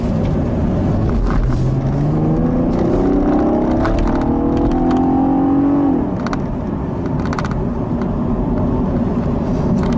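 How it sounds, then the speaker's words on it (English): A 2015 Cadillac ATS Coupe engine gives a throaty growl as it accelerates, its pitch climbing steadily, then easing off into a steady cruising drone, loud and close with no talking. "Some people really like the characteristic throaty growl that it makes."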